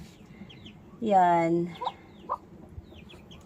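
A mother duck guarding her ten ducklings gives one loud, harsh nasal call close by, followed by a couple of shorter faint squawks over quiet outdoor background, with a brief spoken word.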